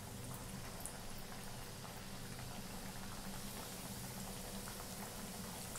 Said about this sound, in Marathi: अशाच आता आपण सगळ्या तळून घेणार आहे।